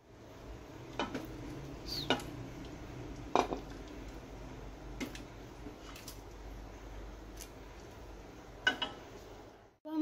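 Chana dal is served from a pot into a dish, with scattered clinks and scrapes of a metal spoon against cookware over a quiet kitchen background.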